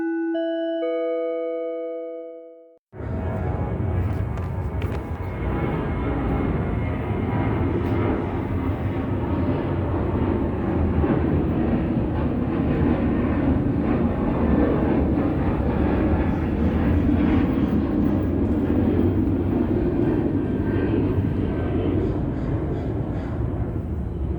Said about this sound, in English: that is plane number 10